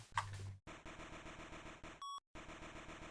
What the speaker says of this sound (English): being driven crazy by the beeping